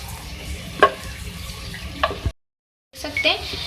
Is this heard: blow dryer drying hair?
no